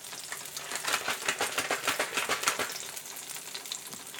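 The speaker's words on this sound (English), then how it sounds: "We're just letting our green onion sizzle for a while." Green onions sizzle and crackle steadily in a hot pan on the stove, a dense close frying hiss with quick pops throughout and no talking.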